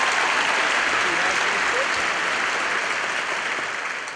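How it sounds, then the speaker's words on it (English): A large crowd of the 2012 graduating class at the Nashua High School North graduation ceremony breaks into loud, sustained applause and cheering that fills the whole stretch, fading slightly toward the end. "Come on, give yourselves a round of applause."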